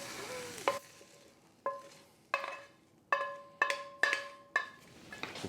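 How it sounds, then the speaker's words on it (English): Sausage and sautéed peppers being stirred together in a pan, heard as a run of sharp metallic clinks and scrapes, roughly eight distinct strikes of a utensil against the pan over a faint background. "Now we can add the peppers to the sausage."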